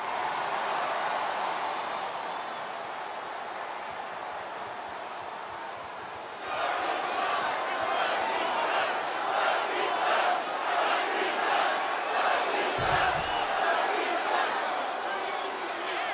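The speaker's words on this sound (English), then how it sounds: "And you can already hear the roar of the crowd as this ladder match gets underway." A crowd roars in a WWE 2K24 ladder match, a broad constant din that swells louder partway through and keeps surging with cheers. Crowd noise stays high until the end.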